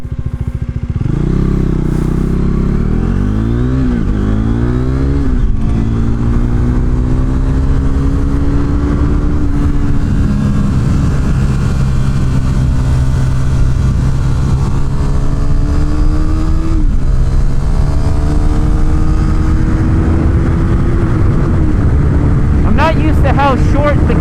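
A motorcycle engine revs loudly and close while riding laps on a track, climbing and dropping in pitch through short gears with rapid shifts and a constant roar of wind and road noise.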